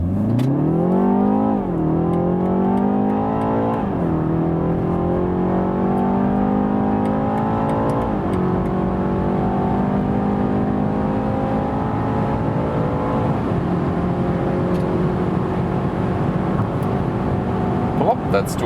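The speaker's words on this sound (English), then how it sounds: "We're starting at 30 kilometers an hour and accelerated." BMW 330i accelerating hard from 30 to 200 km/h, engine note climbing steadily through several gear changes with brief dips between shifts, heard from inside the cabin, loud and continuous.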